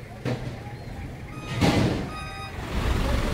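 Reversing beeps from a tow truck on a crowded road with many vehicles waiting to be towed, steady repeated tones over traffic noise and engine rumble, with a louder broadband burst midway.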